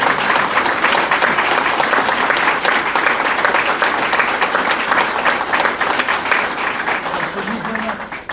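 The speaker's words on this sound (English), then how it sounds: "Applause line, everyone. Applause." Audience applause at an outdoor check presentation for the Kings Highway Bridge project in Suffolk, a dense, steady wash of clapping from a sizeable crowd that holds loud and even throughout, with faint voices mixed in.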